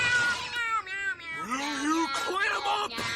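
Cartoon characters from a SpongeBob episode meowing at the moon, a loud chorus of drawn-out, wavering voiced meows and caterwauls, with voices imitating cats, the pitch sliding and overlapping.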